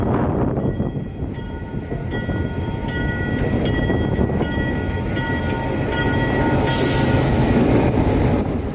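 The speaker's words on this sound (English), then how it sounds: "the train slowly pulls into the Willow Yard to unload the passengers" A train rumbles steadily close by while its wheels clatter and squeal along the rails, slowly pulling into a rail yard. A high hiss swells near the end as it keeps moving slowly.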